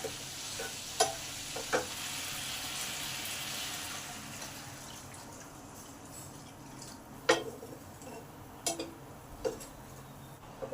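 Spice paste frying on high heat in a pan for a fish curry, a loud hiss that fades to a softer sizzle, punctuated by sharp scraping taps from a stirring spatula.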